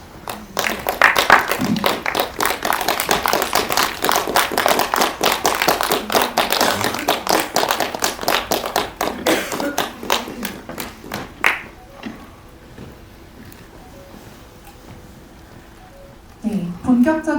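Press-conference audience clapping to welcome the guests of a queer documentary screening and Q&A, dense and close for about eleven seconds before fading out into quiet, then a voice begins speaking.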